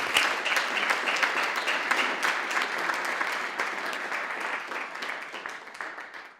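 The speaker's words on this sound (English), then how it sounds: "let's give him a round of applause." Steady audience applause at a technology talk on blockchain and cryptocurrency, a dense, even wash of many hands clapping at once, fairly loud and close, with no speech over it.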